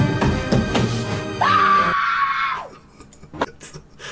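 A scream from a TikTok meltdown rises sharply into a sustained, loud, strained wail lasting about a second, then breaks off, with scattered thumps and knocks before and after.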